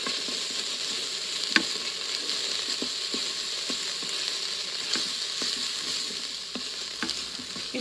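Mongolian beef sizzles steadily in a non-stick Instant Pot while being stirred, a dense continuous frying hiss broken by scattered clicks and scrapes of the utensil against the pot.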